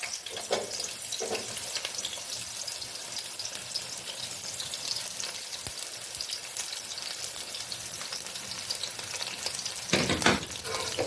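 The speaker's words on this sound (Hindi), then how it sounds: "तो इस टाइम में अब मैं इसमें डालूंगी प्याज।" Chopped onion fries in a pan for a dal and spinach dish, a moderate, even sizzle with light crackle throughout and a brief louder hiss and clatter near the end, no voices heard.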